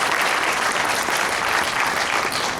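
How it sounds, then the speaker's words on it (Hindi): An audience at a health and diet camp in Jaipur claps loudly and steadily, a dense, even round of applause filling the whole stretch. "एक बार जोरदार तालियां बजाएंगे जब लोग"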